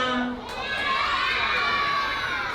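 Young children in a kindergarten graduation show audience shout and cheer together, a loud continuous crowd roar with high excited voices rising over it.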